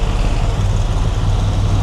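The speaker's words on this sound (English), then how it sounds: "Bus there, being noisy." A noisy bus rumbles past on a busy Bangkok street, its loud, steady low engine drone close by and filling the scene with dense traffic noise, no voices.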